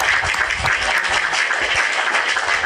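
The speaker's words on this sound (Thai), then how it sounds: "ต้องปรบมือจริงๆนะทุกคน" Audience applause from fans at a Thai fan-community talk show, a steady dense wash of clapping filling the whole stretch at close, even loudness with a few low thumps underneath.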